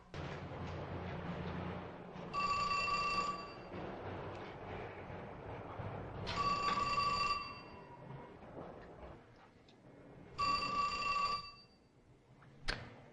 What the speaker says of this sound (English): will you answer the phone, please?